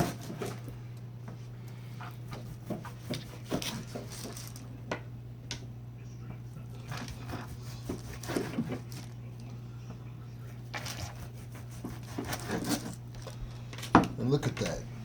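A knife saws and presses through smoked beef brisket on a board, soft scattered cuts and squishy taps under a steady low hum, quiet and close, with someone talking at times.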